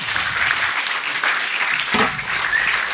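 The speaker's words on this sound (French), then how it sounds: "Vous pouvez l'applaudir encore." A conference audience applauds a speaker in a hall: a dense, steady wash of clapping from many hands, fairly loud and continuous, with a faint murmur underneath.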